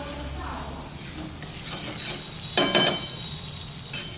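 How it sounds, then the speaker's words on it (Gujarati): Green chillies sizzle in hot tempering oil for a light snack, a steady frying hiss beneath a kitchen hum, broken by a few sharp clinks of a spoon or utensil against the pan near the end. "વઘાર કરીએ મરચાનો લીલા"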